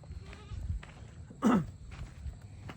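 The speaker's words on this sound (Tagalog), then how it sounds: "Itong kambing natin, ito native yan, native." A single short bleat from a native goat rises clearly over faint background rustling and low murmur, fairly close.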